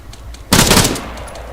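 Automatic weapon fire from the video game ArmA 3 breaks out as one loud, close burst lasting about half a second, then fades.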